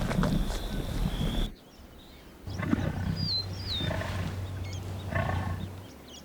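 A lion pride in the wild gives deep, rumbling roars and grunts in several bursts, separated by quieter gaps, with bird calls faint in the background.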